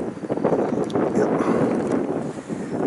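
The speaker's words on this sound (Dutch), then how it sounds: "Er staat echt veel te veel wind voor." Strong gusty wind buffets the microphone outdoors at a storm-damaged park near Vogelenzang in the Netherlands, a steady loud rumble with surging gusts, while a voice speaks faintly beneath it.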